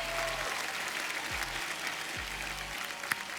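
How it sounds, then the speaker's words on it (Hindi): Loud studio audience applause on an Indian comedy talk show, a dense steady wash of clapping that fills the whole stretch with no voices over it. "जोरदार तालियां"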